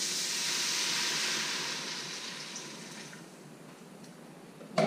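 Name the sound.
pouring beef stock into an Instant Pot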